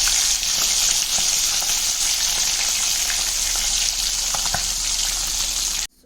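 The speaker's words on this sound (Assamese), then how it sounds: "মাছটো গোটেইকেইডোখৰ হাফ ফ্ৰাই কৰি ল'ম।" Pieces of fish half-frying in hot oil for a home lunch give a steady, dense sizzle with scattered crackles and pops, close and fairly loud throughout, cutting off abruptly at the end with no voices.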